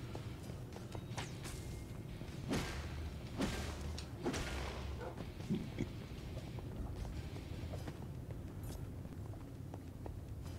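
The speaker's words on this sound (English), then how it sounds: "Why do I keep hearing explosions?" Several muffled, deep thumps land at irregular intervals over a steady low background rumble during a live stream, like dull explosions going off in the distance.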